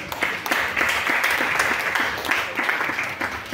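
A church congregation applauds during a French-language service, a dense, steady wash of many hands clapping throughout, fairly loud and close with no talk over it.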